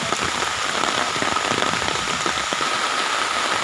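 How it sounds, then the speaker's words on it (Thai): Heavy storm rain pours down in a dense, steady hiss of drops striking surfaces, with no voices or other sounds. "ฝนตกพายุเข้า"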